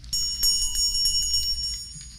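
A small bell rings during a stage Christmas play of "It's a Wonderful Life", its bright, steady tinkling tone sustained for about two seconds with a few fresh strikes and no talking.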